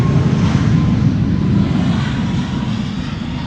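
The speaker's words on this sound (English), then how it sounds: "Iceland Air flight 501 returning to Reykjavik, Iceland, Max 8 737" An Icelandair Boeing 737 Max 8 departs Amsterdam Schiphol, its engines giving a loud, steady, broadband roar that stays close and powerful, then eases slightly toward the end.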